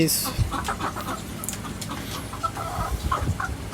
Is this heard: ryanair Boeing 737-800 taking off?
no